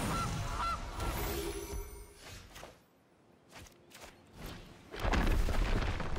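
Goose honk sound effect from a Goose card played in MTG Arena, a loud honk up front followed by soft thuds and game effects, then a louder burst at the end.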